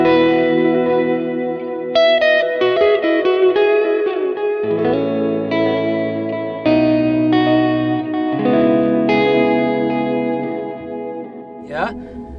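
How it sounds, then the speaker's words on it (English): Electric guitar played through a Line 6 Helix dynamic hall reverb, chords and single notes ringing out clearly with a spacious hall tail, moderately loud and steady with a brief bright bend near the end. "the dynamic hall, you can hear that the reverb, it doesn't cloud your tone, and you can still hear the clarity of your notes"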